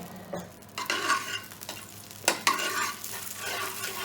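Vegetable ghee heats in a pan over a medium gas flame, giving a soft sizzle broken by close scraping stirs and a couple of sharp clinks, with no one speaking.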